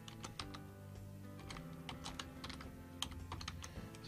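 Close computer keyboard typing while a year is entered into a Word 365 cover page, with quiet, irregular clusters of soft key clicks over a low background hum.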